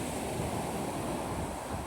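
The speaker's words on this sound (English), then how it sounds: "Now a lot of the movement is just as the waves break." Ocean waves break and wash onto a beach at a shoreline fishing spot, a steady broad roar with some wind noise and no voices.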